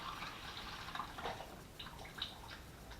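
Red wine juice pours into a one-gallon container for a homemade red wine kit, a soft steady trickle and splash of liquid running for a few seconds, fairly quiet and close.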